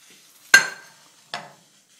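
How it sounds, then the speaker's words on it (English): A metal lid lifts off a popcorn pot with a sharp clank and ringing scrape, followed a moment later by a second softer clatter, close and alone. "we're going to take the lid off"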